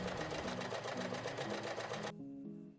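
A sewing machine runs straight stitching down a folded linen fabric strip for belt loops, a steady fast whirring pulse that cuts off abruptly near the end, leaving a quieter tonal hum.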